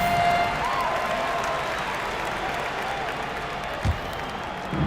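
A large basketball video game crowd cheers and claps in a steady, even roar that continues throughout, sounding somewhat distant.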